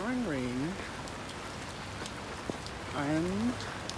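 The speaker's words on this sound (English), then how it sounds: "It's pouring rain." Pouring rain outdoors, a steady even hiss throughout, with a person speaking briefly over it at the start and again near the end.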